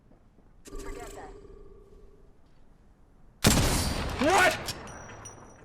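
Video game gunfire erupts suddenly as a dense, loud burst of shots after a stretch of quieter game sounds and a brief exclaimed voice, continuing as a sustained crackling fusillade to the end.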